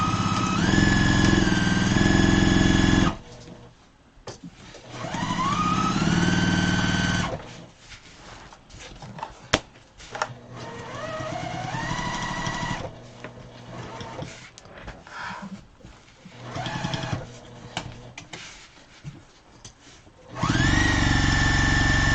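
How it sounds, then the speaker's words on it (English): An electric sewing machine stitches a seam in loud, close runs of whirring motor, with speed rising and falling, broken by short pauses and fabric handling. "I'm gonna sew 3/8 of an inch all the way around, except for my opening."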